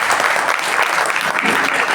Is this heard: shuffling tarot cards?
no